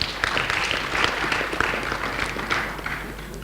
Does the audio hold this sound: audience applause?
yes